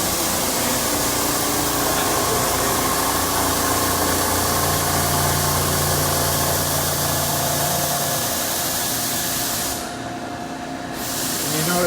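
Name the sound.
large crankshaft machine running in SCAT VW factory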